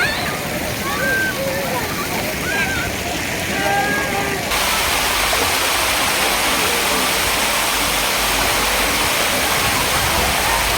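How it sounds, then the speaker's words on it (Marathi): A waterfall at Suraj Water Park in Thane gushes as a dense, loud wash of falling water, with voices talking over it in the first seconds before the roar fills everything. "हाच आहे तो धबधबा जिथे बाहुबली चढला होता."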